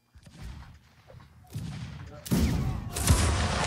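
Musket fire crackles through a Mount and Blade: Napoleonic Wars battle, scattered shots early building into two dense, loud volleys of overlapping gunfire near the end.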